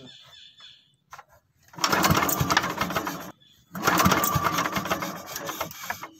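A cold boat engine on a morning crabbing trip coughs briefly, then runs in two loud rattling bursts separated by a short stall, heard close up.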